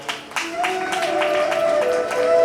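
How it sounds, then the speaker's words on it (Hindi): Devotees at a Bhagavat Katha gathering in Haridwar clap for themselves. The claps are scattered and uneven, with sustained tonal sounds running underneath. "अपने लिए ताली बजाओ।"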